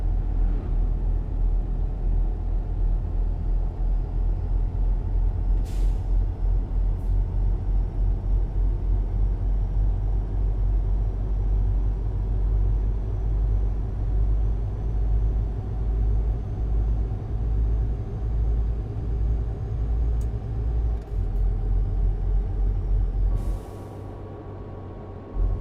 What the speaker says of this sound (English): The main one we need is realistic sounds for the trucks instead of different brands of vacuum cleaner that's been recorded